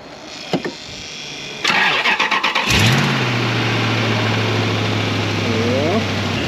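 A car engine cold-starts with a brief whirring crank before it catches, then settles into a steady, fairly loud idle. Faint voices can be heard before and during the start.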